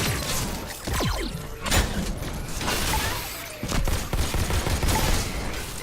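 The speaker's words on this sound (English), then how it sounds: "Use his own machine gun against him" Rapid machine gun bursts rattle through the VR shooter Robo Recall, loud and dense, mixed with impacts, thuds and sweeping robotic game effects that continue throughout with little pause.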